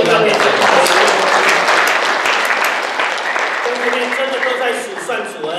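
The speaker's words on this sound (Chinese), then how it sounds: "要不要再拍手？" A church congregation applauds in a dense, sustained burst of many hands clapping close by, slowly thinning toward the end, with voices mixed into the crowd noise.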